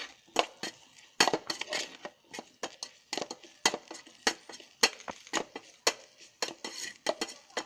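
A spoon stirs masala frying in an electric kettle, making brisk, rhythmic clinks and scrapes against the metal. The strikes are close and fairly loud, with short pauses between them.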